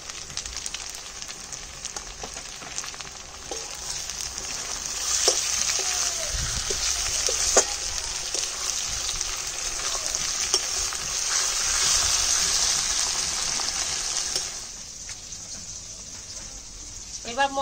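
Tomato and slit green chili frying in oil in a pan for a light fish curry, a steady loud sizzle with occasional stirring scrapes, continuous throughout before easing off near the end.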